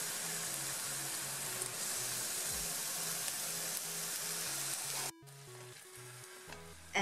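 Onions with fish sauce sizzling steadily in a hot pan while cooking sinigang, a loud, even crackle with brief stirring, then quieter frying near the end.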